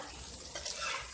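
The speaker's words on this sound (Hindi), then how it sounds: "थोड़ा सा भून देते हैं।" Liver pieces sizzle quietly on a hot tawa during a brief moment of stirring, with a soft hiss and a faint scrape.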